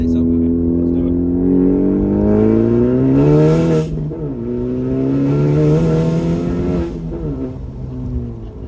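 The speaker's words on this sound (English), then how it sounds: "we're gonna give her one last pull here, guys. We're gonna start from second, about 20 miles per hour" Modified Honda Civic Type R pulling hard from second gear at about 20 mph: a loud, rising engine roar climbs through the revs, breaks for a quick upshift with a short whoosh, then climbs again, heard from inside the car.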